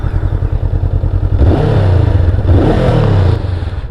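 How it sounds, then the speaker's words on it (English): A 2022 Honda CB500F parallel-twin motorcycle idles with a pulsing, even beat, then revs up into a louder, throatier drone that holds and falls back, close to the microphone with no speech. "So you got that typical parallel twin sound that we had before."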